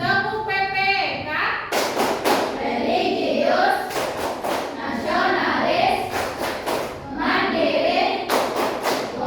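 A primary school class in Indonesia performs the PPK clap chant: groups of sharp, loud unison claps in a fixed rhythmic pattern, alternating with children shouting words together.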